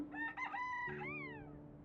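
A rooster-like bird call crows over soft drum hits in a daytime notification cue from the game Airborne Empire, short and clear, with a rising and falling tone.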